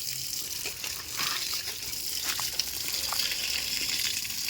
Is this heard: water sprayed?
yes